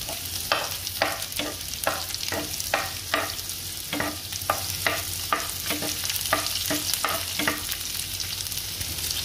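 Onions fry in a pan with a continuous bright sizzle, punctuated by steady, rhythmic scraping strokes of a spatula stirring through them.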